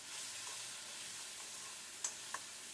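A steady soft sizzle of fresh coconut paste frying in oil with mustard seeds and cumin, faint and even, with two small clinks or pops near the end.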